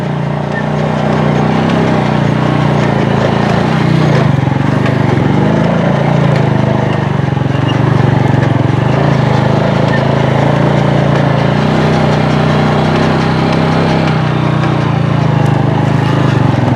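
A motorcycle engine drones loudly and continuously, labouring at low revs on a deeply rutted mountain road, with voices talking over the rumble.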